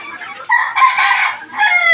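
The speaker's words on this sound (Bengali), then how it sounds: "এই যে এই বড়ো মুরগিগুলো" Desi chickens in a cage farm cluck and squawk close by in short, throaty bursts, one call running into the next.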